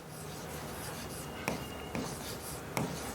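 Chemistry formulas being written by hand: soft, quiet scratching strokes close by, with a few light taps as the pen meets the page.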